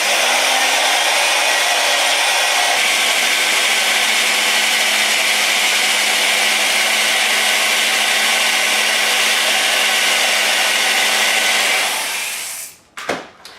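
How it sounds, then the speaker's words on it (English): A wire wheel spun by a drill strips rust treatment from a metal part for a GS550 cafe racer, giving a loud, steady high-pitched grinding whir that runs unbroken for about twelve seconds before winding down with a few short bursts. "I found the ticket for removing this rust treatment wire wheel on the drill."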